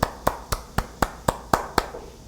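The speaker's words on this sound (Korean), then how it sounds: "주님께 영광의 박수를 올려드리겠습니다." A church congregation claps in unison, eight sharp, evenly spaced claps in a steady rhythm roughly a quarter second apart, each ringing briefly in a reverberant hall.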